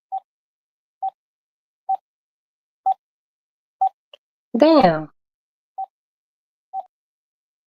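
A phone being dialed by hand, with a series of eight short, evenly spaced tones ringing out clearly, broken once by a brief spoken exclamation partway through.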